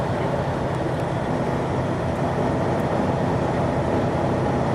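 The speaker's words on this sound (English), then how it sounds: "It's my first time ever riding in an 18-wheeler right here." The cab of a moving 2014 Freightliner Cascadia 18-wheeler fills with a constant loud drone of engine and road noise, with no break.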